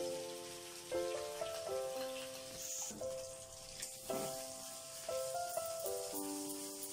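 Paste of tomato, green chili, ginger and garam masala sizzles steadily in hot oil, a close, continuous crackle under background music with a few louder bursts.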